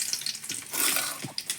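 Cumin seeds and garlic fry in hot oil in a pan, a close hissing sizzle with quick crackling pops and a louder burst in the middle, no speech.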